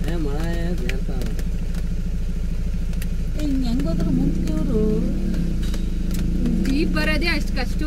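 Motorcycles and cars pass along a rain-slicked road near Wayanad, their engines making a steady, close drone with rising revs as bikes go by, while voices talk over the traffic.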